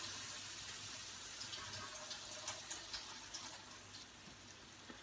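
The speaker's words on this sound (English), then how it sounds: "I've drained out the rice, as you can hear me in the background" Water drained from rice pours and splashes steadily into a sink, a continuous rushing trickle with small splashy bursts, fairly close.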